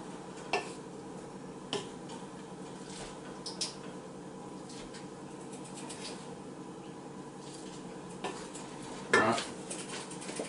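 Prawns fry quietly in a pan with a soft continuous sizzle, punctuated by occasional clinks of utensils against the pan.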